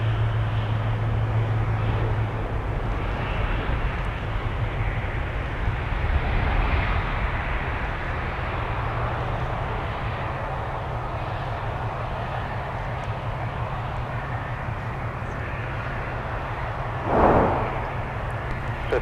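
An airliner taking off from runway 17 at Minneapolis–Saint Paul airport, a steady, broad jet engine roar at a distance, holding roughly level throughout with a brief bump near the end.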